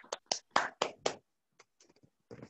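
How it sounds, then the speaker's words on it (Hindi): A few people clapping for Rupa and her husband at a team achievers' event, a short run of sharp, close hand claps followed by softer scattered ones. "रूपा मैम और उनके हस्बैंड के लिए अभी तक की एक जोरदार ताली होनी चाहिए"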